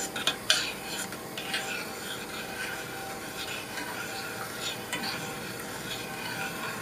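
A utensil stirs a soy sauce mixture in a cooking pan, giving repeated light scraping and clinking against the pan over a steady low background.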